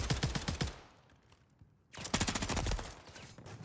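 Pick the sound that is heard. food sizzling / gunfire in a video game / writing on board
gunfire in a video game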